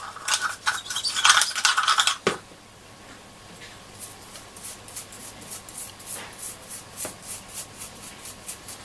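A toothbrush scrubs the case of a Hacker Super Sovereign RP75 transistor radio in close, rapid strokes, a loud burst of scrubbing followed by a pause and then softer, rhythmic brushing.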